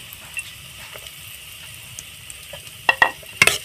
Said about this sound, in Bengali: দেখুন বাদামগুলো আমি হালকা ভেজে নেব, তারপরে আমি কেটে রাখা নারকেলগুলো একটু ভেজে নেব।